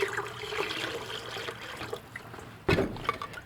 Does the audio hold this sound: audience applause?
no